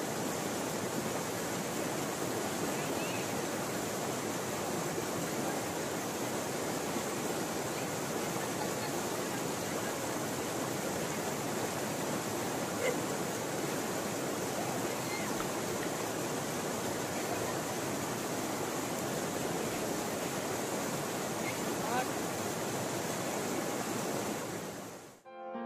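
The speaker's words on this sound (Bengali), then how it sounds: "এই নদী ঠিক ছবির মতো কলকল করে বয়ে চলেছে নেওড়া রিভার" The Neora River in the green hills of Kalimpong rushes and babbles in a steady, dense wash of water noise. It continues evenly without a break, with no voices, and cuts off abruptly at the end.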